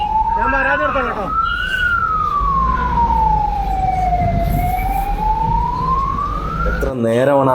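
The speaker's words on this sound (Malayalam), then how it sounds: "എത്ര നേരമാണ് ആ ആംബുലൻസ് ആ കുരുക്കിൽപ്പെട്ടതെന്ന് മാത്രം നിങ്ങൾ നോക്കിയാൽ മതി" An ambulance siren wails steadily in a traffic jam, its loud tone rising and falling in long sweeps over the rumble of engines and road noise.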